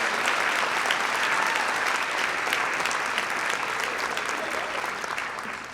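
A crowd at a nursing graduation and pinning ceremony gives a sustained round of applause, thick and even clapping from many people that fades slightly toward the end.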